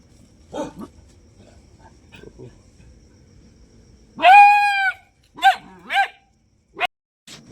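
Dogs give a few scattered barks and yips while being fed milk and flatbread, near and fairly loud, separated by quiet gaps, with a long drawn-out whine in the middle.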